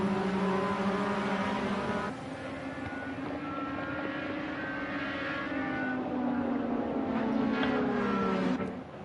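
Simulated race cars finish the Orange Park test race on a sim racing track, with engine whines rising and falling in overlapping tones as the cars pass through the final turns, steady and moderately loud.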